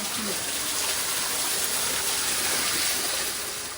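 A hidden waterfall gushes inside stone tunnels beneath a deep well in Sintra, a loud, continuous rushing roar that stays steady and close throughout.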